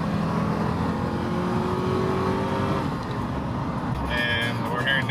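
A Ford Thunderbird with a small V8 drives along, its engine droning steadily close by, with a brief higher burst of revving near the end.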